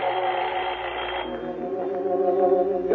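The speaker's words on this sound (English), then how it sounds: "I heard the alarm we'd set go off" An alarm going off, a steady electronic tone with layered harmonics that shifts pitch partway through, sounding thin and band-limited like a small speaker, alone with no talk.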